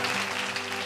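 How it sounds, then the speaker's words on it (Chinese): Studio audience on a Taiwanese variety show applauds, a dense, steady wash of clapping close and loud for under a second. "来，掌声鼓励一下。"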